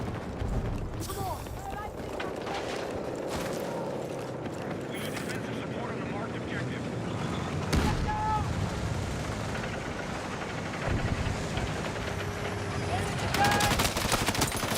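Rapid machine-gun fire from an enemy gunner in a multiplayer shooter game, bursts of shots under steady player chatter, with heavier volleys near the end.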